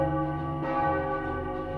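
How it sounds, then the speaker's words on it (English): A village emergency bell rings continuously at moderate distance, its sustained metallic tones holding steady with a fresh strike partway through and no voices present. "It is the village's emergency bell!"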